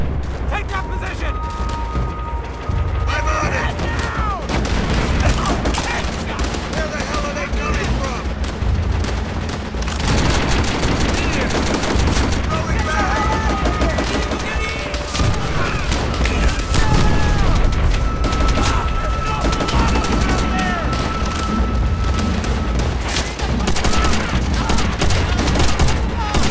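Dense, loud battle din from Call of Duty: World at War. Bursts of bunker machine-gun fire and heavy artillery booms keep up almost without a break, while shouting voices rise through the chaos.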